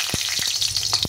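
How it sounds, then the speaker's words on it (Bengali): Dry red chilies drop into hot oil, setting off a close, steady hiss with quick popping crackles and sharp spits, and no voices. "আমি এখানে তেল দিয়েছি, তেলটা গরম হয়ে গেছে। একটু শুকনো লঙ্কা"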